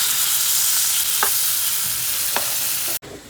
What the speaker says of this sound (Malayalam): നല്ലോണം ഫ്രൈ ആകണ്ട, ലേശം മതി